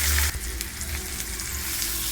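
Chopped onion dropped into hot oil in a heated kadhai, a steady close sizzle and crackle of frying that continues evenly after a brief louder start.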